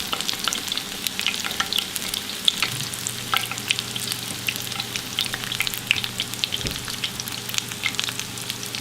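Steady, crackling sizzle of fish frying in hot oil in a skillet, with scattered pops and spatters, close and continuous with no talking.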